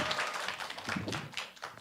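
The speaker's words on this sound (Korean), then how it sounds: "여러분 우리가 보낼 수 있는 가장 따뜻한 사랑의 박수로 목사님 청해 듣도록 하겠습니다" Warm applause from a church audience welcoming a pastor onto the stage as a guest lecturer, a steady wash of many hands clapping throughout, fairly close and moderately loud.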